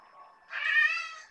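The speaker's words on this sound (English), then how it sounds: "hello Zoe, is my kitty saying hello?" A pet cat meows indoors during a painting session, a single close drawn-out meow rising after a softer lead-in, alone without talk.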